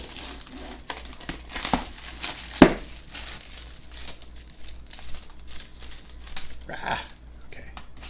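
Packaging on an Apple Watch Series 4 Space Gray Aluminum box with a Black Nike Sport Loop is torn away in crinkly, crackling bursts, including one sharp rip, close up with faint room noise.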